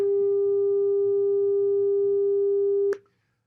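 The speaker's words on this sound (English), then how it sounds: "That's a sine wave. It's kind of a boring beep." A pure sine wave tone played through a speaker during a live physics demonstration: a single steady, loud beep holding one pitch for about three seconds, then cutting off abruptly into near silence.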